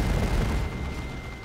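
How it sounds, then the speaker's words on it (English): Assault cannon barrage in Dawn of War 2, heard as a continuous, rumbling roar of heavy rapid fire and booms, steady and loud throughout without any voices. "So a nice looking assault cannon barrage."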